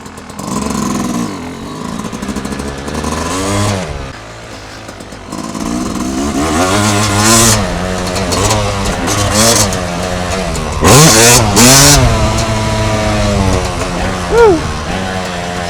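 A Yamaha YZ250 two-stroke dirt bike revs hard and close while jumping at NCMP, with repeated throttle blips, rising and falling pitch, and wind noise.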